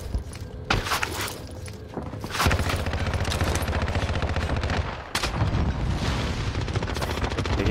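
Continuous video game gunfire in a first-person shooter match, with dense rapid automatic bursts and heavy booming shots running almost unbroken at close, loud range, briefly easing before resuming.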